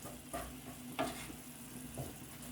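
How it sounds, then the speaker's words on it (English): Meat and garlic are stirred in a frying pan, a spoon scraping in a few distinct strokes over a soft, steady sizzle, close and fairly quiet. "we're going to stir that again so that it's mixed in with the meat"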